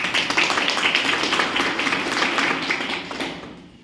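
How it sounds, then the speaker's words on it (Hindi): A crowd at a gathering with senior leader R.C. Yadav claps loudly for GSRC, a dense sustained burst of many hands that carries on steadily and trails off slightly at the end, with no voices over it. "इसे जोरदार तालियां जीएसआरसी के लिए"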